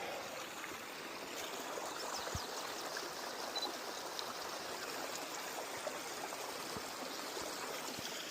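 Gold mine water in the Bohemia Mining District trickles along a small stream, a faint, steady babble that goes on throughout with no voices.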